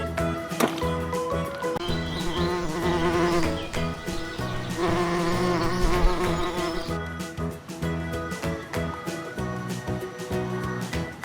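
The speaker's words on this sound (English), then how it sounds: "Bee, big bee." A big bee buzzes faintly and continuously, its drone partly buried under steady background music throughout.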